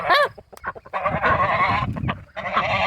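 Geese on a ranch give loud, harsh honks, one sharp call up front and then a dense stretch of overlapping cries, with a short pause before more honking near the end.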